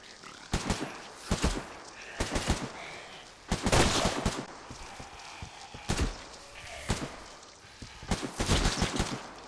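Rapid bursts of AK rifle fire in a video game ring out loud and close, coming in several clustered volleys with short pauses between them.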